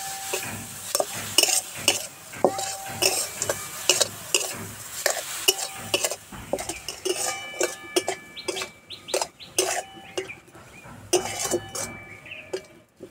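Sugar being stirred into a banana puli pitha filling in a pan, a spoon scraping and clinking at a quick irregular pace, with light sizzling underneath and a rooster crowing in the background.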